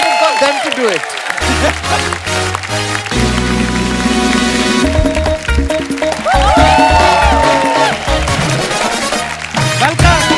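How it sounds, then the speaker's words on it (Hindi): Loud applause from a TV comedy show studio audience, with clapping and cheering filling the space while music plays alongside. "जोरदार तालियों के बीच please welcome Gayatri and Pushkar."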